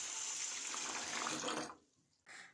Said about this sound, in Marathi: डाळीमध्ये भरपूर पाणी टाकायचं